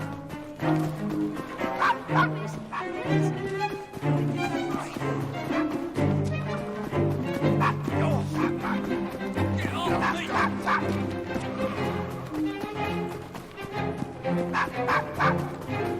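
Dog barks and yips from the video game Assassin's Creed Syndicate, repeated through a sixteen-second stretch over dense game music and ambience, with some whimpering between.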